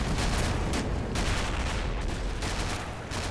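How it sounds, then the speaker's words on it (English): Continuous heavy gunfire and booming explosions in a World War II combat video game, a loud, dense barrage with no pause, close and rumbling throughout. "Excellent shooting, excellent shooting."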